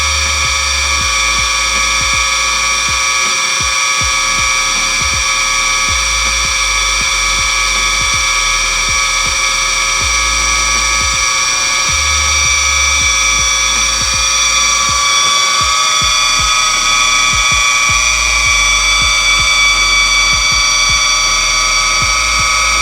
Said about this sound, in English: we're officially done with the blending part of this